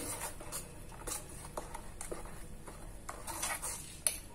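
Green chilli, spring onion and tomato being tipped into soaked semolina in a bowl: soft, irregular clinks and taps of a spoon against the bowl with light patter, quiet and close.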